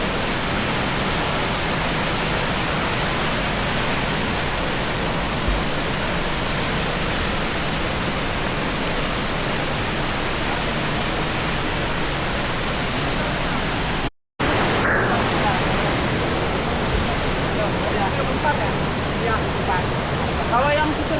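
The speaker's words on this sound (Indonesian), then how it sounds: "Oh ini curugnya." A waterfall at Puncak Khayangan roars steadily and loudly close by, a dense, unbroken rush of falling water that fills the whole scene, with one momentary dropout partway through.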